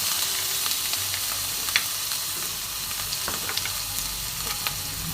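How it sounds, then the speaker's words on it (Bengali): Freshly grated ginger fries with tempering spices in hot oil while cooking a cabbage and bori dish. A continuous close sizzle runs throughout, with small crackles and light stirring taps and no voices. "তো আদাটা আমি ভালো করে ভেজে নেব ফোড়নের সাথে।"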